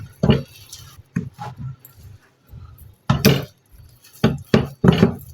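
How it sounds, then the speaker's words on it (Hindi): Ground roasted spices being mixed into a shami kebab mixture, heard as irregular bursts of knocking and scraping with short pauses between them, close and fairly loud with no talk. "मसाले को भी अच्छी तरह से मिक्स करूंगी कबाब में"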